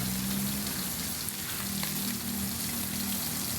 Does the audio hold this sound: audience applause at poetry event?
no